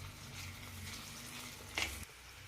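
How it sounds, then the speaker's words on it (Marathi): Onion frying in hot oil for an eggplant and potato curry: a faint, steady sizzle with a brief brighter crackle near the end. "कांदा तेलामध्ये परतून घ्यायचा आहे।"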